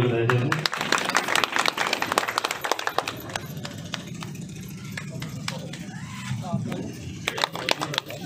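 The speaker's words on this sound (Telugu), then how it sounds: "చప్పట్లు కొట్టడానికి దయచేసి." Scattered audience applause at a local public gathering, a loose patter of claps running throughout at moderate level, mixed with background chatter and voices.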